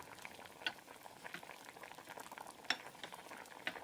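Blueberry jam with sugar being stirred in a pot over a low flame, a soft steady scraping and bubbling with a few brighter clinks of the spoon against the side, close and fairly quiet.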